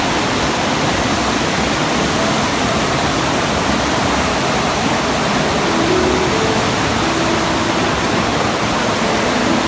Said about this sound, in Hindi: आप पानी का प्रेशर चेक करें।